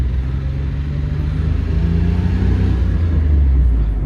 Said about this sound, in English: So now we go to first gear. Go ahead and we take off.